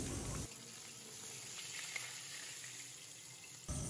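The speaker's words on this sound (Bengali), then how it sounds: "প্রথমে আমি মাছের মাথাটা ভেজে নিচ্ছি" Steady hiss of a fish head frying in hot oil, a continuous crackling sizzle at close range with no talking.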